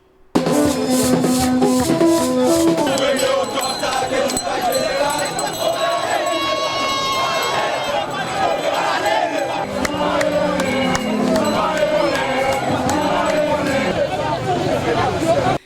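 Dense, loud protest crowd at the Champ de Mars in Haiti, many voices shouting and chanting together without pause, with rising and falling clamour and bursts of yelling throughout.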